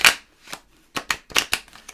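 Tarot cards being shuffled by hand: several quick, crisp riffling bursts in an uneven rhythm, close and fairly loud, with short pauses between them.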